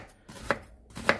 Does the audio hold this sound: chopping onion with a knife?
yes